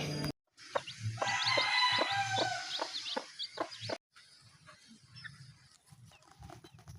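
A Black Astro hen clucks repeatedly close by, a quick run of short rhythmic clucks that fades into quieter, scattered clucking.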